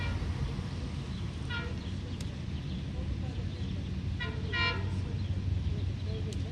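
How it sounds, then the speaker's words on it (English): Long Island Rail Road train 6661 arrives at St James station with a steady low rumble of rolling cars, crossed by short bursts of horn or bell-like tones in the middle distance. "here comes train 6661"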